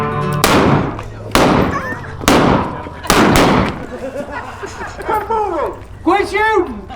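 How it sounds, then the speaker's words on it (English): Blank gunshots crack out in a staged Old West shootout on the street in Oatman, Arizona: four loud sharp bangs in quick succession, followed by people shouting and talking. "right now it is high noon and they are about to have a good old-fashioned shootout."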